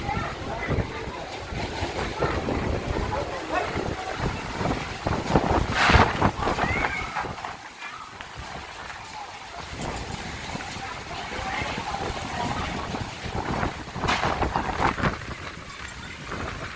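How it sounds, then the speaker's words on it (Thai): Strong summer storm wind gusting around a house, a loud continuous roar with surging gusts and buffeting against the microphone, with someone talking over it. "พายุมากแล้วครับ ลมแรงสามครับ"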